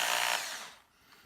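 A power drill fitted with a 2.7 mm bit widens a small hole during a Duckiebot robot build, a short loud whirring burst that fades out within half a second, leaving a faint tail.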